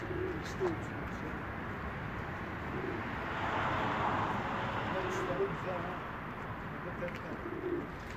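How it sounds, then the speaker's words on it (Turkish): Soft cooing of about ten pigeons mixed with broadband outdoor noise and a voice talking over it, with occasional faint chirps. "10 tane yakın güvercin var."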